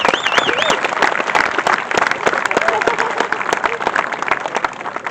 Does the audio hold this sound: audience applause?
yes